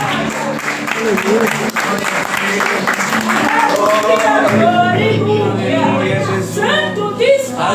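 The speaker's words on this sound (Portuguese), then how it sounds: "as palmas é para Jesus nessa noite" A church congregation clapping during a Pentecostal-style evangelical induction service for a pastor, with rhythmic clapping running beneath loud singing and music, busy and close throughout.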